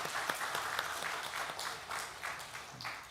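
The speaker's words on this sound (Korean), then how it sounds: "우리 박수로 환영하겠습니다." Church congregation at a Sunday worship service applauding to welcome newcomers, a sustained crowd of hands clapping at moderate distance, even and continuous without speech.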